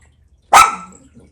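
A single sharp dog bark close by, loud and brief, with a short growly tail, breaking an otherwise quiet room.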